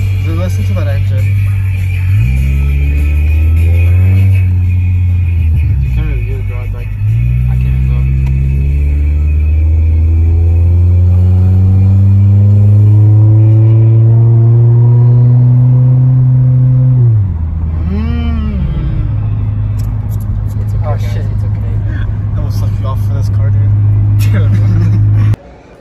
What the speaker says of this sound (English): Dude, listen to that engine.